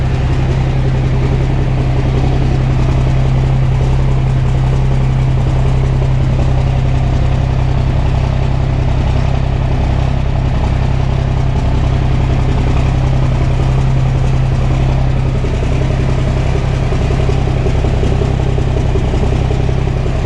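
Straight-piped C500 truck with a turbo lacking a wastegate idles nearby, a loud, steady low rumble that drones evenly throughout.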